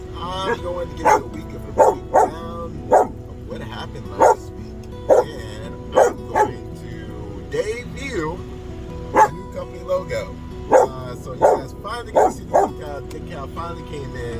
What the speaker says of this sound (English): He is barking at the guy replacing the tire